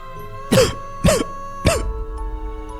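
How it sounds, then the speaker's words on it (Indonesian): Three sharp coughs spaced about half a second apart, close and fairly loud in an otherwise quiet room, each a short harsh burst with a throaty edge. "Leo pun terbatuk-batuk."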